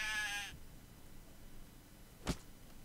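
Sheep in Craft the World gives one clear, fairly loud bleat at the start, followed by near silence and a brief sharp noise shortly after.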